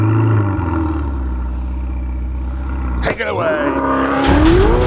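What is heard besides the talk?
Ferrari 488 driving a lap on a racetrack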